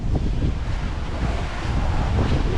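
A sailboat runs fast through gale-force wind and waves on a passage from Florida to Bermuda, with loud continuous wind roar and rushing water filling the sound, steady and dense without pause.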